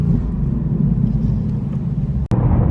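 A 450bhp Ford Mustang V8 in racetrack exhaust mode, a loud, steady low rumble heard from inside while cruising, broken by one brief sharp click.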